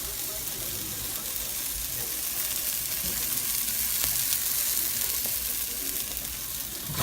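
Cornish hen stuffing with shallots sautéing in a pan, a steady broadband sizzle running the whole time with faint clinks and stirring, no voices.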